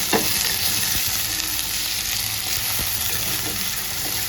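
Crushed onion, garlic, green chilli and curry leaves frying in a pan, a loud, close, continuous sizzle with occasional light taps of a spoon being stirred through.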